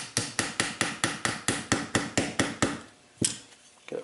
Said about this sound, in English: requires a little bit of a hammer.